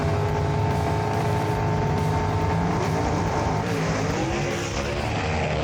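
Gasser drag race cars run down a racetrack in a loud, continuous engine roar, heard at a distance with crowd and ambient noise mixed in, and the pitch shifts as they pass.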